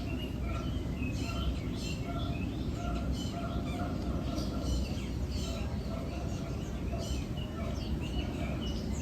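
Birds calling in an aviary at Animal Kingdom, a dense steady chorus of chirps and tweets with some honk-like calls over a constant low rumble of background noise, with no clear talk.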